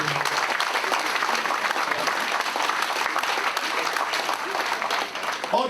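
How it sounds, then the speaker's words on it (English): Sustained, dense applause fills a room at a football club's Player of the Season awards night, a steady roar of many hands clapping at even loudness throughout. "they deserve as much applause as everybody can give them"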